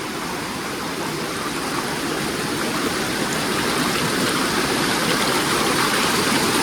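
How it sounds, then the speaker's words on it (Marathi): Steady, full-bodied rush of a monsoon stream flowing close by at Bhuibawada Ghat, continuous broadband roar with no pauses and no voices. "पाण्याला फोर्स आहे रे"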